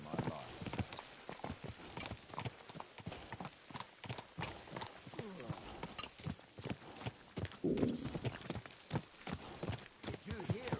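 Hooves of a horse in the medieval video game Kingdom Come: Deliverance II clop steadily under continuous game dialogue and ambient noise, with a brief whinny midway.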